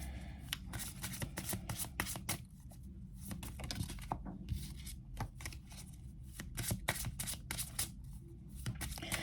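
Tarot cards are shuffled close up in quick, riffling bursts of papery slaps and flutters, with brief pauses between runs and no talking.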